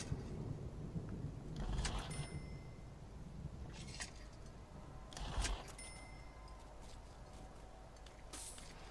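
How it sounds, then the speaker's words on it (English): A thunderstorm in the video game Prison Architect rumbles with distant thunder, and a few louder cracks and crashes stand out above a steady rain-like hiss. No one talks. "Oh, storm"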